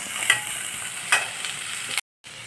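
Capsicum sautéing in a pan with a steady sizzle and two sharp spoon-against-pan scrapes from stirring, close and fairly loud, ending in a brief dead gap of silence.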